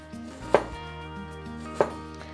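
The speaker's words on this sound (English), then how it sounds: "the onion into slices, and you don't want to cut all the way through the onion" A knife cutting an onion into slices on a board, two distinct crisp chops about a second apart, close and clear with no voices.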